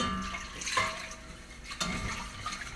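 Cream poured into a pan while making mac and cheese gives a soft liquid splash and trickle, fairly quiet and brief, with a louder clink near the end.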